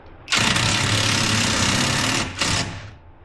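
A power gun snugs a bolt on motorcycle saddlebag guards, giving a loud, close mechanical whirring burst of about two seconds with a brief dip before a final short whir.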